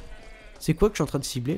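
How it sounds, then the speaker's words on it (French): Goats bleat in Red Dead Redemption, several short wavering cries in quick succession, close and loud, following a brief line of speech at the start. "Toutes les chèvres qui se barrent."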